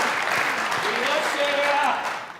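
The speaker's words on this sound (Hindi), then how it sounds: "शेरा के लिए तालियां।" A studio audience applauds for a guest named Shera on a comedy talk show, dense steady clapping with a host's voice and music faintly underneath, fading toward the end.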